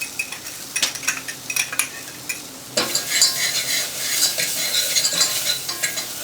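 Onions for scalloped potatoes go into a pan, first with scattered utensil scrapes and taps, then a sudden rise into loud, continuous sizzling with stirring clinks over it.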